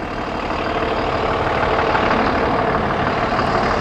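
A Cummins ISB 6.7 liter 300-horsepower turbo diesel in a 2018 Freightliner M2 passenger bus idles with a steady, dense, close rumble and no voices.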